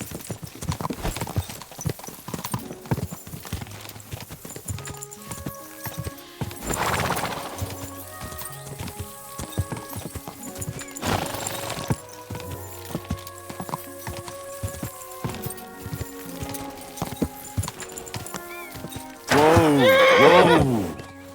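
Horses gallop in a race in Kingdom Come: Deliverance 2, with a steady rush of clip-clop hoofbeats, several loud neighs and whinnies, and a burst of shouting near the end.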